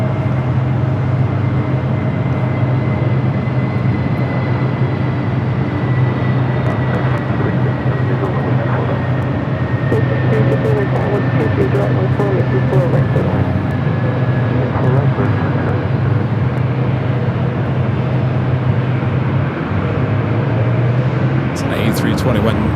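An Airbus A321neo airliner at Los Angeles International Airport gives off a steady, loud jet roar with a sustained engine whine, continuous and unbroken throughout.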